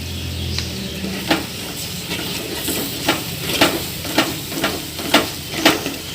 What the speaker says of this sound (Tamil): தயிர் ஆட் பண்ணி நல்லா கலந்து விட்டுறணும்